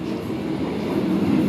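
A train at Kalna station gives a steady, loud low rumble of rolling carriages, continuous and unbroken, with no voices.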